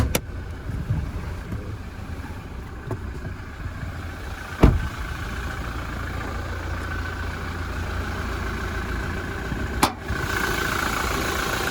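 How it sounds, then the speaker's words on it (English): A 2017 Toyota Hilux SR5 engine idles steadily throughout, a constant low rumble heard from beneath the engine bay, with a couple of sharp clicks breaking the even drone. "we will have a look underneath the engine bay while she's still running for you."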